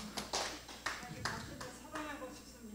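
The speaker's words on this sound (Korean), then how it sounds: "박수 부탁드리겠습니다" A few scattered hand claps from a small audience at a photography class in a Gyeonggi-do senior retirement village, faint and sparse, a handful of separate claps over a couple of seconds with a voice speaking through them.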